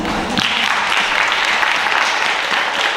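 An audience applauds panelists at an educators' forum, dense steady clapping that fills the room evenly for a few seconds, with no voices over it.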